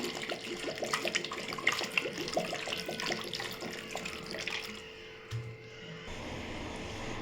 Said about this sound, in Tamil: இப்போ நம்ம தேவையான அளவு தண்ணி ஊற்றிக்கலாம்